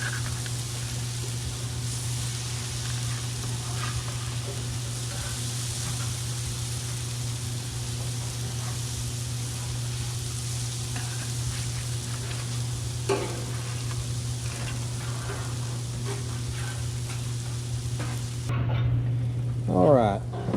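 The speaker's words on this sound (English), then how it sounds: "Got the grill heated. I'm gonna grab these fish, just throw them on." Mullet and black drum fish sizzle on a heated grill outdoors, a steady, close frying hiss throughout with a low hum underneath and a voice talking faintly.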